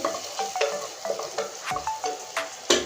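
Spice paste with turmeric powder being stirred and fried in a pan: gentle sizzling under a rhythmic series of spatula scrapes and taps against the pan, close and fairly quiet.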